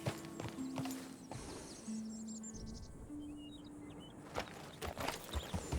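Horse hooves clip-clop steadily in the video game Red Dead Redemption 2, with a faint whinny and birds chirping in the background.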